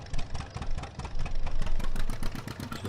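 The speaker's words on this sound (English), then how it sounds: "just go back a bit just to straighten up the tractor" A tractor engine idles with a steady low chugging while reversing in a farming video game, loud and close, with a pulsing throb and no one talking.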